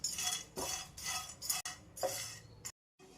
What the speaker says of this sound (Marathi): आता याला थोडंसं भाजून घेऊ